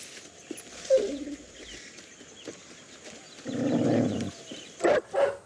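A dog gives a few short barks and a longer whining bark amid faint background noise, with a pair of sharp yelps at the end.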